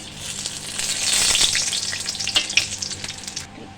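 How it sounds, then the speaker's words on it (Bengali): Whole spices with dried red chillies and bay leaves hit hot oil while tempering for khichdi: a loud, close burst of sizzling and crackling that swells quickly and then settles into sputtering with brief stirring sounds, no voices. "এখানে আমার তেল গরম হয়ে গেছে, এবার এই ফোড়নগুলো দিয়ে দেব"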